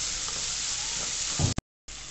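Curry leaves and drumstick pieces fry in hot oil for hotel-style sambhar, giving a steady close sizzle with light stirring that cuts off abruptly near the end before resuming.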